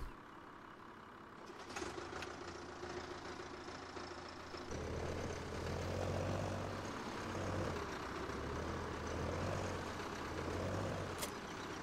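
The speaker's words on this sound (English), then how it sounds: "This is a nice little tractor." A nice little tractor engine in a farming video game rumbles steadily, idling low then swelling into a louder, pulsing drone with a few sharp clicks over it.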